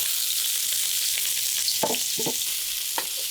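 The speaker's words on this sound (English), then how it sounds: "Once the oil's gotten nice and hot, I'm gonna drop the onions in." Onions hitting hot olive oil in a wok give a steady, bright sizzle throughout, with a few soft clicks and stirring knocks mid-way.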